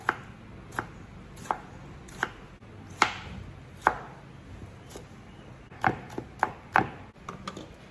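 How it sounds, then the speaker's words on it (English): A knife chops a tomato into very small pieces on a board for vegan nachos, a series of crisp, separate thuds, spaced at first and then quicker and bunched near the end, close and fairly quiet with no talk. "I'm gonna cut 1 tomato, very small"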